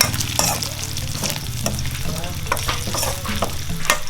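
Eel pieces stir-fried crisp in hot oil in a village kitchen, a steady loud sizzle broken by repeated scraping and clattering stirs of a utensil against the pan, close and continuous with no talking.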